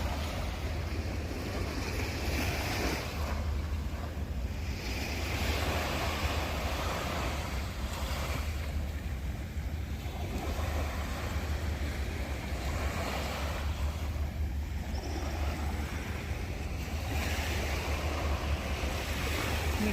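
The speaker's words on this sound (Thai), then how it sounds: "คลื่นทะเล" Sea waves washing onto a beach at East Coast in Singapore, a continuous rushing surf with gentle swells rising and falling, mixed with steady wind buffeting the microphone.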